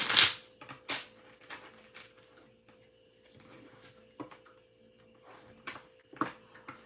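Soft, intermittent riffling and slapping of tarot cards being shuffled close by, in short irregular bursts against a quiet room with a faint steady hum.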